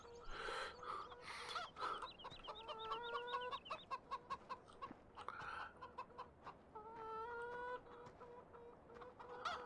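Chickens cluck and squawk close by in a farmyard, with repeated rhythmic clucks and a few longer calls rising over a quiet outdoor background, and no one speaking.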